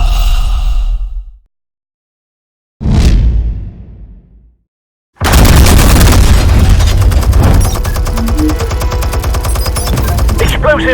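Explosions and gunfire in Batman: The Telltale Series: a loud blast fades into silence, then a booming burst decays, and after another pause a dense, sustained barrage of loud shots and detonations fills the rest.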